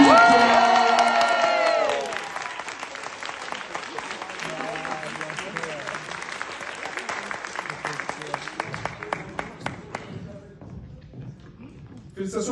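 Audience at an eloquence contest breaks into loud applause and cheering as a contestant is called to the stage, a dense clatter that slowly thins out toward the end.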